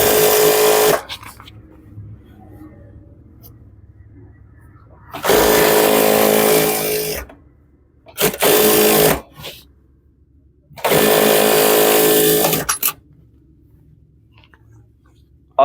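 A sewing machine stitches along the edge of a trouser pocket in three loud bursts of about two, one and two seconds, separated by quiet pauses with faint handling noise.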